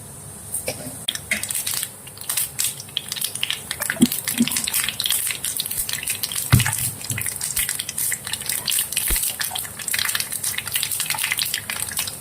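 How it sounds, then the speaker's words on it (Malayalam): Mustard seeds crackling and popping in hot oil for a tuna fish pickle, a dense run of sharp little pops over a constant sizzle. "കടുക് പൊട്ടി വരുന്നുണ്ട്."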